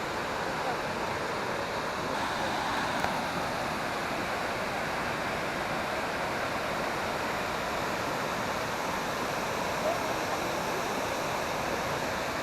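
Waterfalls at Krka National Park, Croatia, give a steady, unbroken rushing roar of falling water that holds evenly from start to finish without pause.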